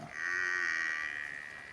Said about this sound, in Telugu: బర్రెలు దుడ్డలు అయితే అరుస్తున్నాయి